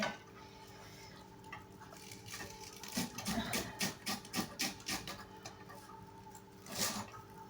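Cabbage is sloshed and rinsed in water by hand, giving a run of close splashing, dripping pulses that cluster in the middle and return once more near the end, with a faint hum beneath.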